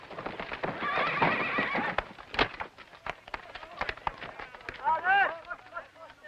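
A horse whinnies with rising and falling calls among scattered hoof clops and sharp knocks, fairly close, with someone talking over the scene from a Western television series.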